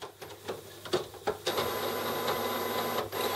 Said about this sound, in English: Open the printer cover.